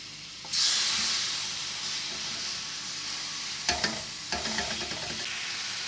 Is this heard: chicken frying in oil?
yes